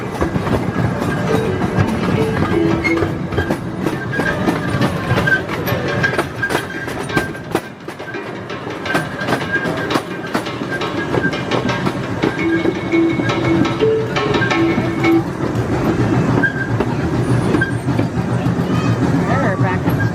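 Miniature zoo excursion train, the Red Diamond Express, rolling along its track with steady rumbling and clicking wheels throughout, loud and close, while people talk and murmur aboard.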